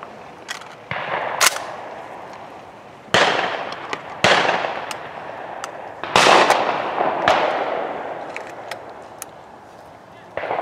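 Shotgun blasts at sporting clays targets outdoors: several loud, sharp shots spaced a second or more apart, each trailing into a long rolling echo.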